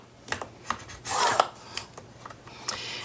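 A tool scores lines into paper for a horizontal album at half-inch intervals, making a few short scraping strokes with one longer rasping drag in the middle, close and fairly quiet.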